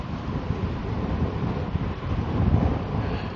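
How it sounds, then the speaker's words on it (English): Wind buffets the microphone in a steady, loud low rumble while riding a 2018 Rad Power RadMini electric folding fat bike on the road, with no talking. "You can probably hear the wind right now."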